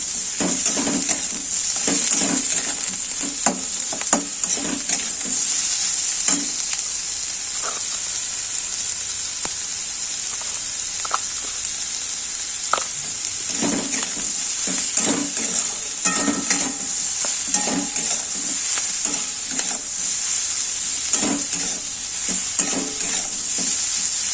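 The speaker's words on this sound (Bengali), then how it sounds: "এটা একটু ভালো করে নাড়িয়ে নেব একটু পেঁয়াজটা হালকা ইয়ে হবে ভাজা হবে" Onions sizzle steadily in a hot pan while a spatula scrapes and clinks against the pan in repeated stirring strokes.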